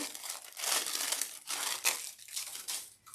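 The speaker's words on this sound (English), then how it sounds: "I apologize for the crinkling" Artificial flower stems in plastic wrapping rustle and crinkle up close, in several loud bursts of crackling handling separated by brief pauses.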